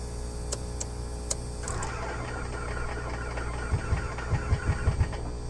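In Microsoft Flight Simulator 2024, a small aircraft engine is cranked to start. A few clicks come first, then a whirring starter, then low uneven chugging pulses as it tries to catch.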